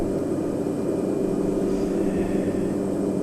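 Bush plane engine at full takeoff and climb power, torque near its 1865 maximum, a loud, steady droning roar with a constant low hum filling the cabin throughout, no voices.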